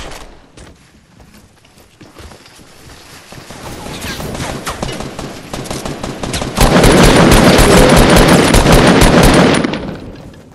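Rapid bursts of automatic gunfire in the video game Fortnite, building from scattered shots into a loud, dense, continuous barrage that cuts off near the end, with a voice talking faintly underneath.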